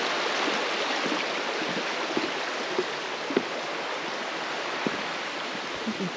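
The Sludyanka mountain river rushes in a steady, broad hiss, with a few small splashes and gurgles standing out over the continuous flow.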